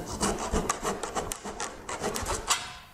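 A handsaw rasps through wood held on a bench hook, fast, narrow-kerf strokes rubbing in quick uneven rhythm, close and fairly loud throughout.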